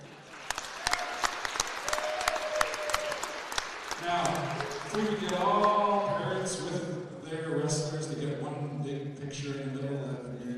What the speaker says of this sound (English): Let's give one more big round of applause for our senior wrestlers and their parents.